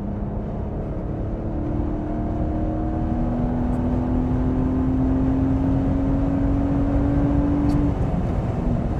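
A BMW 130i with its naturally aspirated 3-litre six-cylinder engine pulls hard in fourth gear, a steady loud drone whose pitch climbs smoothly for about eight seconds before easing off.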